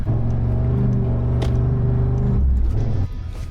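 A 4WD vehicle pulling away in soft sand near an island gives a loud, close, steady engine drone that holds, then drops in pitch near the end.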